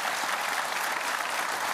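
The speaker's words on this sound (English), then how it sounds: "it's all very well to applaud from time to time" Studio audience at a televised Q&A panel breaks into sustained applause, a dense steady clatter of many hands throughout.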